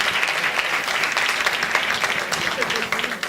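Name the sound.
conference audience applause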